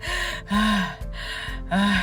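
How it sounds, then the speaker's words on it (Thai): Loud, noisy breathing done deliberately the wrong way during a singing lesson, heard as three audible rasping breaths in a steady rhythm, close up, with no talking. "ลองหายใจธรรมดาก่อน แบบมีเสียงเลยแบบผิดๆเลยนะ"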